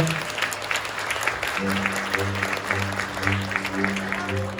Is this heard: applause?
yes